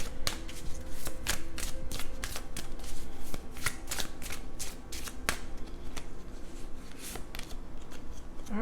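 Tarot cards being shuffled by hand, a close, continuous riffle of rapid papery flicks and snaps kept up for several seconds with no talking.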